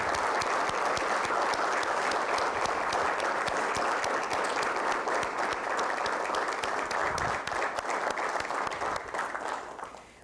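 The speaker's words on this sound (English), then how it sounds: "Can everyone please give the Mays a big round of applause to show our appreciation?" A university audience at an engineering dean's address claps in a long, even round of applause that holds steady for several seconds before tapering off at the end.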